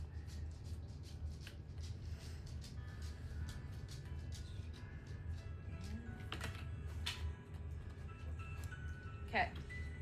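Soft, rapid riffling and tapping of cards being shuffled close by, over a low background hum and faint voices.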